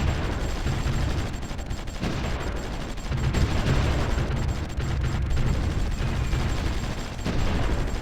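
Continuous rumbling barrage of artillery fire in the strategy game Supreme Ruler Ultimate, a dense steady roar of overlapping booms that holds loud and unbroken throughout.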